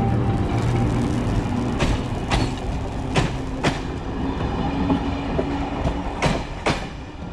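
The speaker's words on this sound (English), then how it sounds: "Cool train, they also use the same models in Croatia." A train rumbles past nearby, its wheels clacking over rail joints in a steady rhythm, with a low continuous roar underneath.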